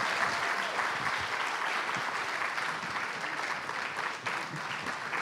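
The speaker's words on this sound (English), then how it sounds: "And give yourselves a big round of applause, too." Audience applause at a Freedom Summer gathering, a dense steady wash of clapping that holds evenly loud for the whole stretch with no voices on top.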